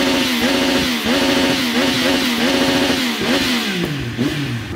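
A motorcycle engine revs up close and loud in quick repeated bursts, its pitch rising and dropping with each throttle blip before settling lower at the end.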